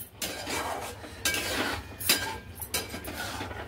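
Spoon scraping and clinking against a pan as fresh milk cream is stirred into kaju masala with peas, a series of close, uneven metallic strokes and scrapes.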